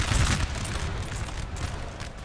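Rumbling artillery fire on a Napoleonic battlefield in Napoleon: Total War, a loud low boom at the start fading into a continuous distant rumble of cannon and musketry.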